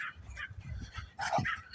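A small fluffy, scrappy leashed dog lets out a short bark or yip near the end of a brief stretch, fairly quiet and close, over soft background noise.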